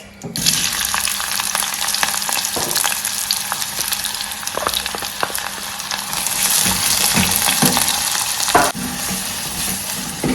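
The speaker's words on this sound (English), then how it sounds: "So I'll go ahead and add my coconut oil to the pan. Add my onions." Onions sauté in coconut oil in a pan with a steady, loud, close sizzle and crackle throughout, broken by occasional scraping stirs and a sharper clank near the end.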